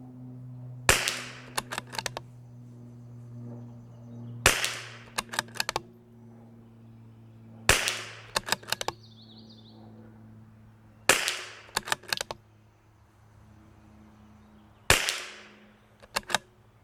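Five sharp rimfire shots ring out from a CZ457 rifle, spaced several seconds apart, each crack followed by quick mechanical clicks of the bolt being cycled, close and alone over a low steady hum.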